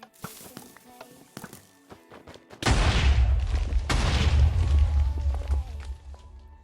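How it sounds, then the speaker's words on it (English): A TNT cannon fires in a Minecraft team match: light clicking steps give way to a sudden loud blast with a long rolling rumble, then a second burst, with no voices. "Punisher's trying to take out that sky bridge with the TNT cannon"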